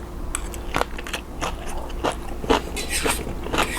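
Crunchy biting and chewing of baked shrimp with glass noodles, close and fairly loud, with repeated bites and mouth sounds and no talking.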